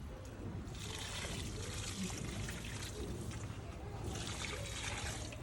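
Liquid fertiliser, one glass mixed with two glasses of water, is poured into the soil around a lemon tree, making a quiet, continuous soft pouring and trickling sound.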